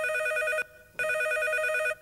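Telephone ringing for an incoming call on a call-in radio show, two loud, even electronic ring bursts with a short gap between them, close and alone with no voices.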